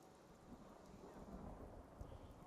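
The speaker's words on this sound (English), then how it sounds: "Actually, the fact that it's raining is probably actually helping me." Rain falls steadily in a Fallout 4 game world while low thunder rumbles underneath, a faint, continuous wash of drops and distant rolling.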